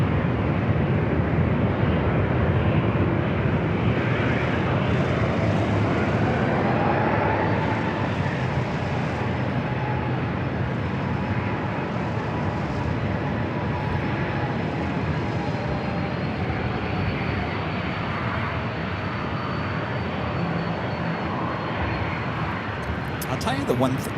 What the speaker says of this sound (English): Delta now rolling down the